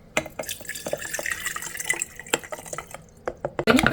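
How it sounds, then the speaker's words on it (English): Water is poured from a pitcher into the reservoir of an espresso and cappuccino maker, a close, splashy trickle with small drips and clinks running throughout, ending in a louder splash. "and you pour the water into here."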